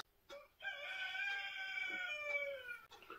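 A rooster crows once in a long, drawn-out call close by, sustained for about two seconds before trailing off, on a rainy spring day.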